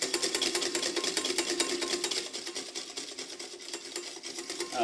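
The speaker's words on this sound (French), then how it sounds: "Toujours en fouettant le plus possible." Cream is whisked into a mousseline sauce, a whisk beating steadily and rhythmically against the bowl, close and fairly quiet with no talking.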